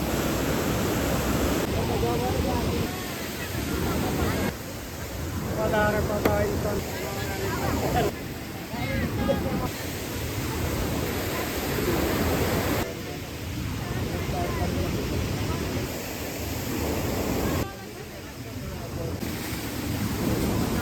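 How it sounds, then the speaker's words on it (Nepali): Water from the Bahuni stream rushes at a flood-damaged drinking-water intake serving Khaireni and Thingabari in Nepal, a steady broadband roar heard close, with people talking over it at intervals. "यो चाहिँ बाहुनी खोला रहेछ"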